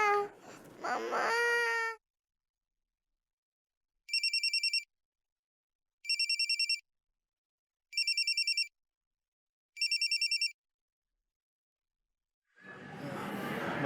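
A mobile phone ringtone rings in four separate short bursts, spaced evenly with silence between them. Speech comes before the ringing and again after it.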